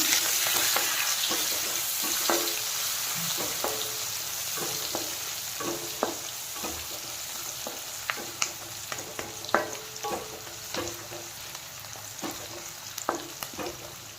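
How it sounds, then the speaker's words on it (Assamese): Cardamom pods frying in hot oil for chana dal, with a steady close crackling sizzle broken by repeated sharp ticks and scrapes of a spoon stirring through the pan. "ইলাইচি কেইটামান দি দিছোঁ। ভালকৈ লৰাই ল'ম।"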